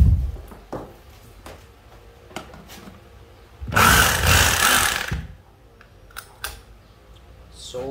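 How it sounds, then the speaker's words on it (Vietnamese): A used 220V three-function concrete drill with speed control and reverse gives a single loud burst of about a second and a half, framed by scattered clicks and handling knocks. "khoan bê tông ba chức năng"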